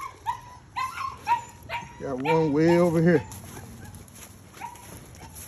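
A puppy at feeding time lets out a single drawn-out, strained vocalization lasting about a second, close and fairly loud, with a person talking before and after it.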